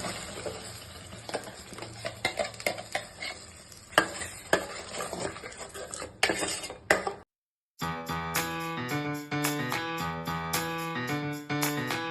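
Ground masala paste fried in oil in a pan for paneer masala gives irregular sizzling and stirring scrapes with spoon clinks for about seven seconds. Then a short silence, and music plays.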